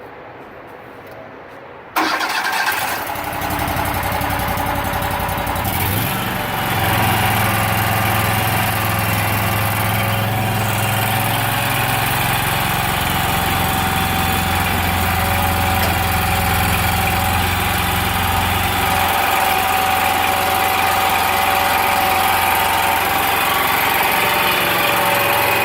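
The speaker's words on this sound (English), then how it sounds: "now I'm going to start the machine" T60 hydroseeder engine cranks and catches after a quiet moment, then settles into a steady, loud idle with a low rumble and constant vibration that continues to the end, no talking.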